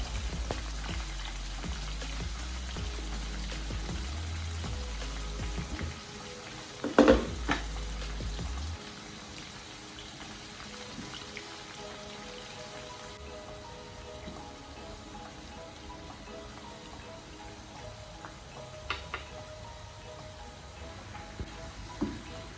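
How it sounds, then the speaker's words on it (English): Plantain slices deep-frying in hot oil for crispy plantain chips make a faint, rain-like crackle and bubbling that runs throughout, with a few brief louder clatters early on and no speech. "add in the rest of the plantain. Stir and leave it to fry for at least 2 to 3 minutes."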